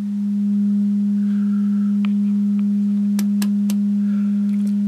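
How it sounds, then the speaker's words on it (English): A steady, loud 200 Hz sine test tone plays through a homemade 741 op-amp audio amplifier with BD139/BD140 output transistors, a constant clean hum with a few faint clicks and ticks on top, no voices. "And now we go to 200 hertz."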